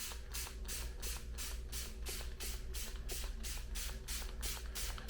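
Spray tack mists lightly over model scenery in rapid repeated bursts, a loud close hissing pulse about twice a second that fills the whole stretch without voices.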